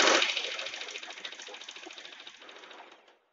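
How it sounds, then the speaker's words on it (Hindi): A USHA Janome Wonder Stitch sewing machine stitches cloth with a fast, rattling run of needle strokes that starts loud and slowly fades as the machine slows to a stop, close up with no talk. "मशीन पर सिलाई हो रही है आसानी से।"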